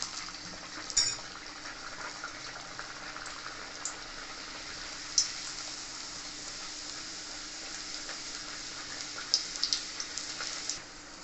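Chira luchi, flattened-rice puris, frying in hot white oil, giving a steady soft sizzle with occasional small pops, fairly quiet and without talk.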